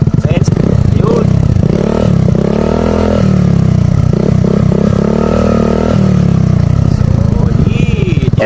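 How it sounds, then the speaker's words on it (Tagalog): Suzuki Burgman scooter fitted with an aftermarket muffler, revved repeatedly in short bursts with a deep, rumbling exhaust note rising and falling over a steady idle, loud and close, with people talking over it. "rev natin guys para marinig nyo"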